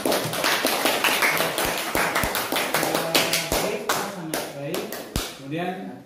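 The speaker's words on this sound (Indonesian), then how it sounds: "Berikan tepuk tangan untuk penampilan." A presentation audience applauds with scattered, uneven claps of varied loudness, thinning toward the end while a voice speaks over them.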